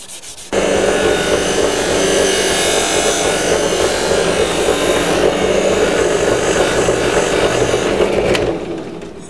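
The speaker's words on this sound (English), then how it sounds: "So that's actually the thing to use, Scotch-Brite pad." A Scotch-Brite pad scrubs an aluminum part from a 1973 Honda CB750 motorcycle, giving a loud, close, continuous abrasive rubbing that runs steadily for about eight seconds before stopping.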